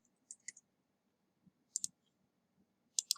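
Mouse clicks on a computer mouse during IDE work, a few soft isolated clicks in pairs, close and quiet with near silence between them.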